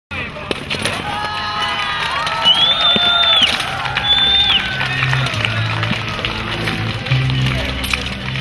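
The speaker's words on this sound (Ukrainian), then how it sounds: "Глядачі спостерігали за нею із неабияким інтересом, вболівали та аплодували переможцю двобою." Spectators crowd around a staged knights' battle reenactment at a military-patriotic school event in Ovidiopol, a steady hubbub of cheering voices, shouts and a few high whistles running throughout, fairly close and loud.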